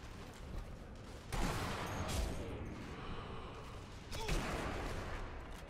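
Gunfire in the Sniper Elite V2 video game aimed at taking out a tank. Two sharp, loud blasts come about three seconds apart over a constant background rumble.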